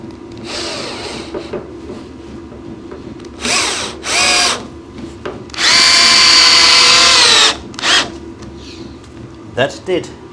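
A power drill drives screws at an angle into the wood of a soap box car in several loud, whining bursts of varying length, one long run in the middle, with people talking between the bursts.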